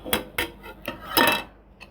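Dosa batter being stirred in a steel vessel with a spoon, giving a few sharp metallic clinks and scrapes in an uneven rhythm, close and fairly loud, followed by a softer smeared scrape.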